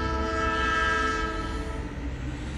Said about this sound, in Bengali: মানে ট্রেনের আওয়াজ।